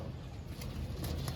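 A young racing pigeon coos softly in the rain, a few low murmuring calls close by with faint background noise.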